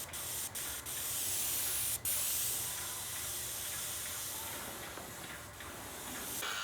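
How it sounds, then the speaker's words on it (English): A steady, loud hiss of liquid rubber coating sprayed through a fine tip runs almost continuously, with a few brief pauses and short bursts near the start, close to the mic. "Probably because I got the fine tip and then I'm actually spraying it."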